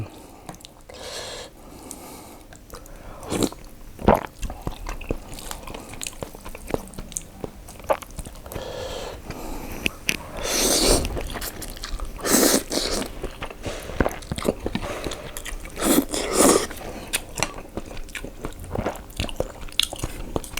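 Someone eats instant tom yum noodles mixed into rice porridge, with close, wet chewing, slurping and soft crunchy bites, irregular and fairly quiet, with no talking.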